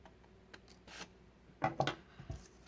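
Scissors cut paper below a marked line while making a small bank envelope. A few quiet snips and rustles, close by, with a short cluster of crisp cuts near the end and no talk.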